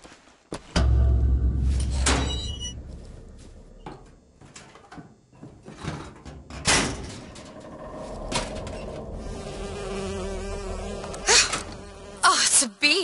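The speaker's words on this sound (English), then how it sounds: "Oh, it's a bee. I hate these things." A bee buzzes in the video game Bioshock Infinite, a loud, close insect drone that swells and fades in bursts across the clip over a busy game soundscape.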